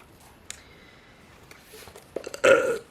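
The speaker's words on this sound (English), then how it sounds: "I apologize for this burping" A person lets out a short, loud burp at the end of a few quiet seconds, preceded by faint small mouth and throat noises.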